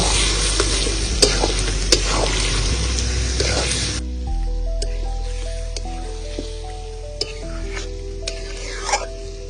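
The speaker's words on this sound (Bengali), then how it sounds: "এই টক দইটাও দিয়ে দেব সঙ্গে সঙ্গে খুব ভালো করে আমি মাংসের সঙ্গে কষে নেব" Chicken pieces and beaten sour yogurt sauté together in a pan for a village-style chicken curry, with loud sizzling and frying, scraping stirs and wet squishing. The frying noise drops noticeably partway through, leaving quieter bubbling with clicks and stirring.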